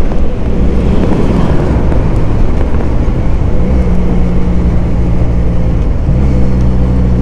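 SRK 400 motorcycle on a test ride along a busy public road, its engine a steady loud rumble that shifts pitch as it changes speed, partly buried in heavy wind rush.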